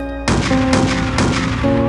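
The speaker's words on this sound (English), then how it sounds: "I heard gunshots" Gunshots as a sound effect: three loud, sharp bursts in quick succession, each followed by a short ringing tail, with no voices.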